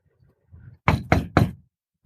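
Police knock three times on a locked door, loud and close, each knock a sharp burst in an even, quick rhythm, with faint low rumbling before it and no talking.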